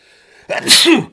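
A single loud, close sneeze with a sharp burst of breath, alone in an otherwise quiet space.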